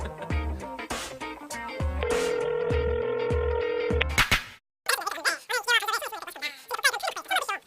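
A telephone call is dialed and rings through on a live studio talk program: a short run of tones, then a steady ringing tone lasting about two seconds, a brief silence, and then a voice talking over the line.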